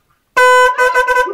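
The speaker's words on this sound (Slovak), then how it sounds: "Trúbu som si kúpil na skúter." A newly installed horn on a scooter honks once in a long blast and then in three short bursts, loud and close, with no talking over it.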